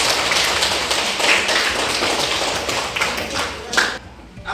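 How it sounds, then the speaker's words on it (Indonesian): A classroom of pupils claps for everyone, dense, rapid, overlapping hand claps with scattered sharper taps, fairly loud and continuous before fading at the end. "Tepuk tangan buat semuanya."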